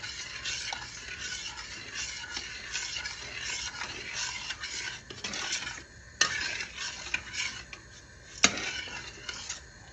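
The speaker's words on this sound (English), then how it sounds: "and I'm going to stir." Steady scraping and swishing of a spoon stirring cornmeal porridge in a pot, with occasional sharp clinks against the metal, continuous and close.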